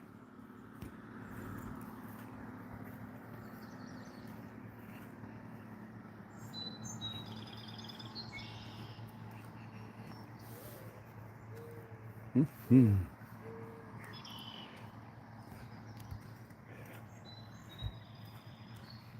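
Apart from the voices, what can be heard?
birds chirping outdoors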